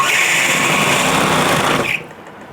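An electric sewing machine runs steadily at close range, stitching a fabric sofa cover, its continuous whirring motor and rapid needle chatter holding for about two seconds before stopping abruptly, leaving quiet room tone.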